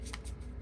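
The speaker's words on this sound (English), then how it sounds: "if it looks like I'm struggling to shuffle these cards, it's because I am" A brief riffle shuffle of tarot cards, a quick fluttering burst of card edges, close and alone.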